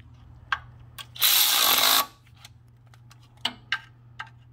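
A socket tool tightens oil pan bolts on a 2006-2011 Ford Fusion with a 3.0 V6: one loud, close buzzing burst of under a second, then scattered light metallic clicks and taps against a quiet hum.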